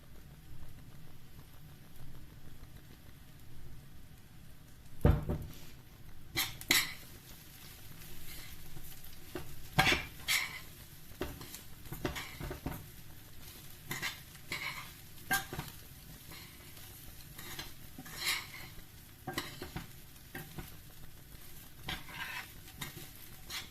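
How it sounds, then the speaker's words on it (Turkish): Oil heating in a pot for dried beans, with a faint steady sizzle under repeated clinks and scrapes of a utensil against the pot at close range. "Kuru fasulyenin tenceresinde yağını koyalım kızım"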